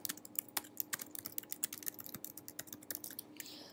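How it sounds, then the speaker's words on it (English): Rapid, irregular clicks of a computer keyboard as a git command is typed, close and crisp, with no voices. "When you're done, type git rebase continue."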